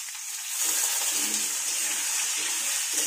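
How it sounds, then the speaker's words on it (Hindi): Vegetables sautéing with turmeric in a hot pan in a home kitchen, a steady bright sizzle that rises and holds evenly throughout, with no voices. "तो थोड़ा सा सब्जी भून लेते हैं"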